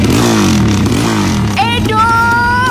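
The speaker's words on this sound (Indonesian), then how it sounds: "pakai knalpot brong segala lagi" Motorcycle fitted with a loud aftermarket brong exhaust revs hard and continuously, its engine roar filling the clip with a rising whine near the end, while voices talk over it.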